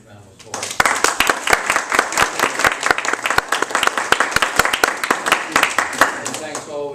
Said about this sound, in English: So that's a nice round of applause.